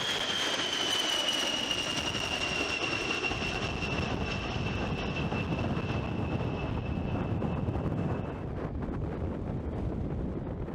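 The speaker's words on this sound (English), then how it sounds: "the B-52's design includes 8 engines mounted in pairs on 4 pylons beneath the wings" A B-52 bomber with eight jet engines mounted in pairs beneath the wings gives a steady, loud roar with a high whine layered on top. The whine holds steady and then fades, while wind-like rushing continues throughout.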